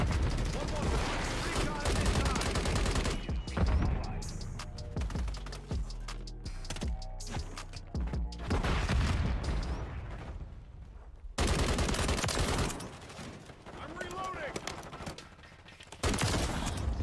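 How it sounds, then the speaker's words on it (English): Shotgun fire in Call of Duty Modern Warfare III during a Team Deathmatch on the Dome map, with loud repeated blasts and dense gameplay noise throughout, occasional brief gaps. "Looks like a shotgun."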